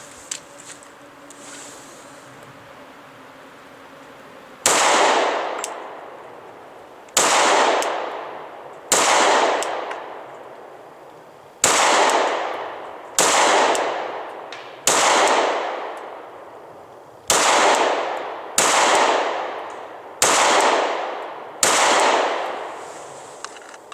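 A Glock 23 Gen 4 handgun fitted with a red dot sight fires at a target five yards away, giving about a dozen loud, sharp shots at a measured pace, each with a short echoing decay, outdoors at close range.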